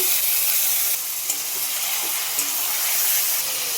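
Marinated chicken hits a hot pan and sizzles loudly, a bright steady hiss of frying with faint stirring clicks throughout.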